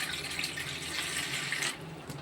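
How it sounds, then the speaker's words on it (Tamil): Water pours steadily into a bowl to dissolve ingredients for ladoo, a close splashing flow that drops off sharply near the end. "கொஞ்சம் தண்ணியை ஊற்றி இதை கரைச்சிக்கிடுவோம்"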